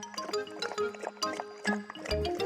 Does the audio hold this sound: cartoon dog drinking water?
yes